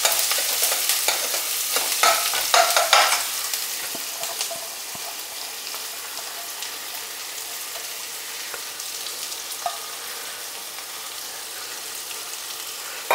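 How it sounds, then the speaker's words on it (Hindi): Onions sizzling in a hot pan over high flame, with a burst of stirring and scraping at the start settling into a steady crackling fry. "तो इसमें हमने 2 छोटे छोटे प्याज लिए हैं, वो डाल देते हैं।"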